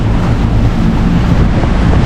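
Strong headwind of about 24 to 28 knots roaring across the microphone aboard a moving boat under way between La Grande Motte and Port-Camargue, a loud, continuous, buffeting rumble with no talking.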